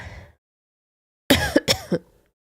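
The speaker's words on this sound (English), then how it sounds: "I did not mean to cough right into the mic" A few sharp coughs straight into the microphone in quick succession, loud and harsh, following a brief quiet stretch with a faint murmur at the start.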